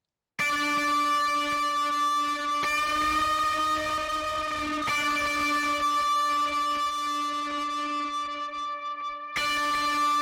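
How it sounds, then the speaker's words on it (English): Two sustained lead guitar tones ring together an octave apart, held notes with a few brief changes, loud and clear with no talking. "a couple of guitars combined together"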